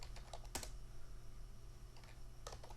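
Keys tapped on a computer keyboard while entering an equation in Word, in short quiet bursts with pauses between them and a steady low hum behind.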